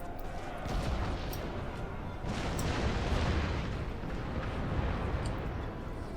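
Howitzer artillery fire in the video game Napoleon Total War: deep rumbling booms roll together with distant battlefield noise, forming a dense, continuous din with occasional sharper cracks on top.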